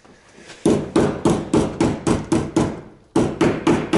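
Loud, evenly paced blows of a large hammer beating dents out of a scrapyard Nissan Bluebird's metal body, about a dozen sharp strikes in a steady rhythm with one brief pause midway.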